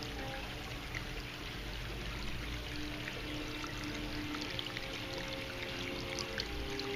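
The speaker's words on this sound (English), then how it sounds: "It's a medium-sized fountain, hand-sculpted out of volcanic rock from California." A medium-sized tabletop fountain hand-sculpted from California volcanic rock, with water trickling and pouring in a steady, even flow, close and moderately quiet, with no talking.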